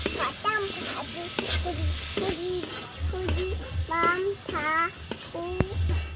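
Spices and boiled chickpeas sautéed in a pan for a prawn and taro-leaf dish, a soft steady sizzle with occasional stirring clinks, while a voice and an adult's voice talk over it.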